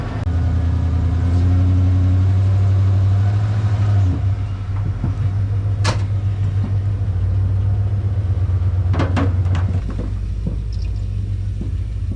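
An old truck's engine rumbles low and steady as it is driven slowly into a shop, holding a deep idle-like drone with a few sharp clanks and knocks around it and no voices.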